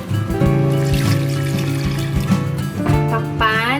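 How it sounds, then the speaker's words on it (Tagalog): Water pours into a pot of pork braising in soy sauce, bay leaves and whole peppercorns, a steady trickling splash with a rising fill tone near the end, while a voice talks over it. "Maglagay tayo ng tubig."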